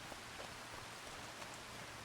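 Steady rain falls in Farming Simulator 25, a soft, even hiss of drops with no voices, holding at a constant low level throughout.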